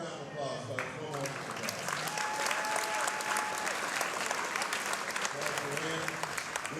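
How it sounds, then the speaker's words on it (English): Applause from the crowd at an amateur boxing event, starting after a brief spoken phrase, swelling into steady, fairly loud clapping with scattered voices in the hall. "one more round of applause, folks."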